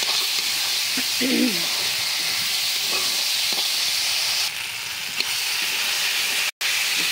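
Potatoes fry in a pan for a home-cooked Bengali dish, giving a steady, even sizzle and hiss that carries close and unbroken throughout, with no talking.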